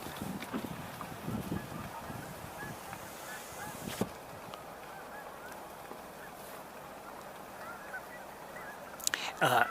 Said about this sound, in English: continued Canada goose vocalizations